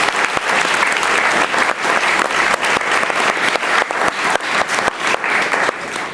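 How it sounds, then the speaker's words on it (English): Loud, sustained applause from a school audience at a student council inauguration, steady dense clapping across the whole stretch with no voices rising above it. "Katie Fricker and Sid Parikh, round of applause."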